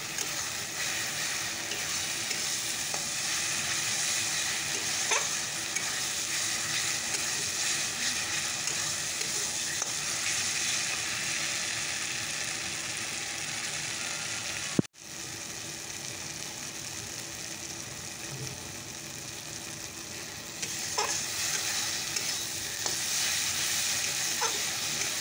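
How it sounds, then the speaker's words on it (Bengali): Masala sautéed and stirred in a pan for a curry. A dense, steady sizzle runs throughout with faint stirring scrapes, one sharp knock partway through, and no voices. "তো চলো মশলাটাকে ভালো করে কষিয়ে নেই।"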